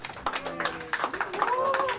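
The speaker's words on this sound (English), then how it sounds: "Big round of applause." Applause for state historic resources staff at a Richmond time capsule opening near the Robert E. Lee statue site, a brief burst of clapping from a modest gathering, with voices underneath.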